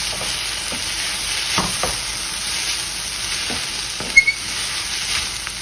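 Sliced vegetables for veggie fajitas, seasoned with salt and pepper, sizzle steadily in a hot pan, with faint stirring clicks and scrapes now and then and no one talking.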